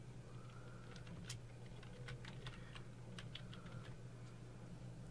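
Computer keyboard keys tapped out in a quick, irregular run while a folder name is typed on a PC, close and fairly quiet over a low steady hum.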